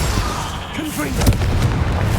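A Confringo spell explodes in the video game Hogwarts Legacy with a heavy boom and a sharp crack amid continuous rumbling game noise, with a brief voice-like sound partly over it.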